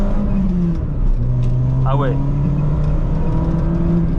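Peugeot 206 CC 1.6i engine pulling hard on an open country road, a steady loud drone rising gradually in pitch as it accelerates, with a brief spoken exclamation over it.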